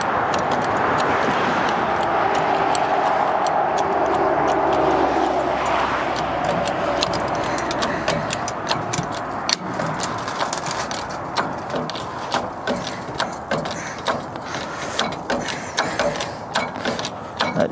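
A Harbor Freight Haul-Master half-ton pickup truck bed crane is raised, giving a steady run of close, loud ratcheting clicks from its mechanism that turn sharper and more spaced toward the end.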